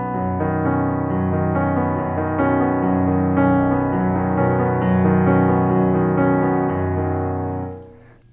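A piano plays the accompaniment to a song, with a bass note followed by fifths and octaves in a steady, flowing pattern. The notes sustain for several seconds and then fade out.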